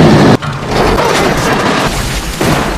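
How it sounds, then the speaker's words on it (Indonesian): Car exploding in a forest in a dramatic scene, a loud booming blast with a sharp onset followed by sustained roaring rumble and a second surge near the end, no talk. "Setelah mobil meledak"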